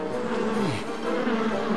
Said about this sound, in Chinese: 哎呀，我最怕蜜蜂了，蜜蜂好可怕呀！